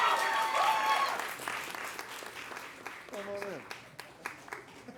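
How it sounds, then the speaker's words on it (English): An audience at a live comedy show at the Hollywood Improv bursts into applause that starts loud and thins out over a few seconds, with cheers and voices mixed in. "Everybody, round of applause."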